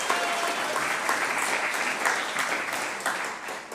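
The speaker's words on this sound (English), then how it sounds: "A big round of applause for John for pulling all of this together." Audience at a Cogswell College alumni event applauding, a dense, steady burst of clapping close by that holds throughout before starting to thin.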